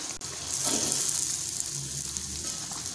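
Fried green chillies added to a curry simmering with tamarind water, giving a steady close sizzle and bubbling with a light stir partway through.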